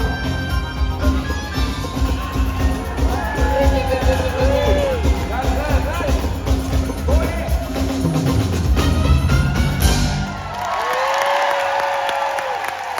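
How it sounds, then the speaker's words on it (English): Audience at the Riviera Theatre applauding and cheering after a song in a tribute show, a loud sustained roar of clapping with whoops, fading out toward the end as talking carries over it. "Keep that applause going for Lola and Tony and Riviera."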